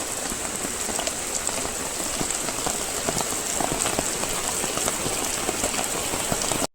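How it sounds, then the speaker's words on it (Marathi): Steady, dense rain patters on surfaces close by, a continuous hiss of drops with no break, falling on an outdoor spot where a motorcycle is being worked on. "पाऊस लागला आहे इथे"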